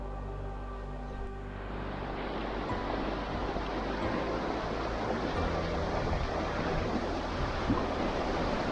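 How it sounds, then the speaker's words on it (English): Water flowing by Gros Ventre campground in Grand Teton National Park, a broad steady rush that swells after a quieter first second and then holds, constant and fairly near. "Wow, the water's relaxing, isn't it?"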